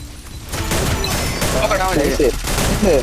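Rapid gunfire bursts in a Free Fire MAX tournament match, loud and close, with a player speaking and shouting over the shots.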